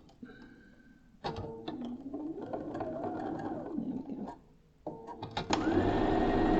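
Sewing machine stitching a quilt block, running in several bursts of steady mechanical whirring with pauses in between, fairly close and moderately loud, no talking over it.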